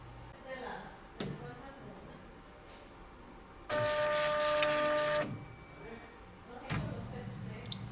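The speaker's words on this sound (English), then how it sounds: "if you saw my maintenance station, it went up and down. My carriage came back towards its home position" Ricoh Ri1000X printer just powered on, its maintenance station moving up and down as the carriage returns home: a steady mechanical whir of about a second and a half between clicks and clunks. A person talks quietly.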